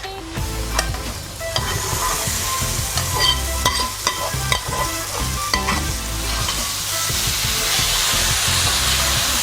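Cooked food stirred into a hot curry pan with steady sizzling and frequent scraping clicks from a spoon, close up and continuous throughout.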